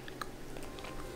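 Close, soft chewing of a Picard frozen chocolate mousse cake with a crunchy layer, a few quick moist bites with faint crunch and no talking.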